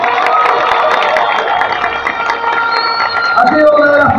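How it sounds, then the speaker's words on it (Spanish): At a campaign closing rally, a crowd breaks into sustained clapping and cheering, dense and loud throughout, with voices and shouts mixed into the applause. "para que les pido un fuerte aplauso también"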